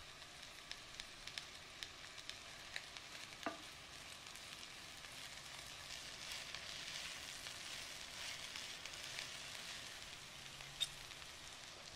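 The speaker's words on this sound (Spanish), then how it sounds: "Ponemos una cacerola con un chorrito de aceite de oliva virgen extra, donde vamos a sofreír la cebolla a fuego medio-bajo" Onion sautéing in extra virgin olive oil in a saucepan over medium-low heat, a faint, steady sizzle with light crackles and occasional spoon taps, no talking.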